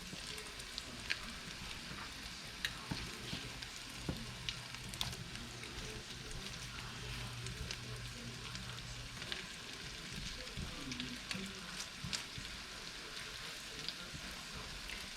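Crabcakes frying in a pan, a faint, steady sizzle and crackle with scattered small pops, low and even throughout, without speech.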